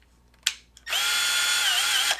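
A handheld power drill fitted with a bit extension attachment spins up after a couple of faint clicks, then holds a steady high whine that dips slightly in pitch before cutting off.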